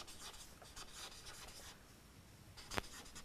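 Pen or pencil scratching across paper while a sentence is written out during an English grammar lesson, a faint, close series of rubbing strokes ending in one firmer scrape, with no talk.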